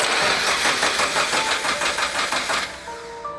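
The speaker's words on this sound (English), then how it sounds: "It's cranking over, but it's not starting yet" Scion FR-S engine cranking over without catching, a loud close rhythmic starter churn with steady pulses for over two seconds before stopping, leaving a faint whine.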